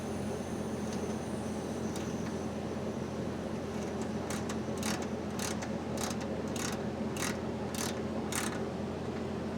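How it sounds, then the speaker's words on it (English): A small ratcheting tool opening a refrigerant line valve on a Senville Leto mini-split installation, a run of about eight quick sharp ratchet clicks over a steady mechanical hum, close. "Now we're going to open the refrigerant line with this little ratcheting tool."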